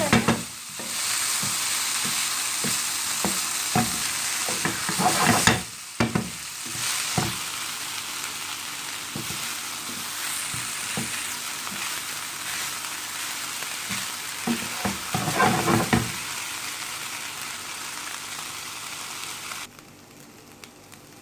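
Egg fried rice is stirred gently in a hot pan, a continuous crackling sizzle with repeated soft scraping strokes and short pauses, ending in a quieter stretch.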